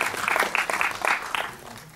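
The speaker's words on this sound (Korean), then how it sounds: "여러분들 두 분께 박수 좀 보내주십시오" Applause at a director talk during a film festival, clapping for two guests that comes in uneven bursts and gradually thins out.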